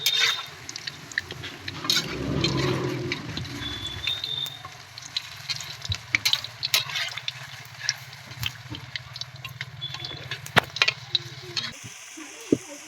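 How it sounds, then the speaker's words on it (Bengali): Bottle gourd fritters fry in oil in a pan, giving a continuous bubbling sizzle with intermittent scrapes and clicks as they are turned, louder at first and then settling into a steady crackle. "এইভাবে উল্টি পাল্টি আমি ভেজে নেব।"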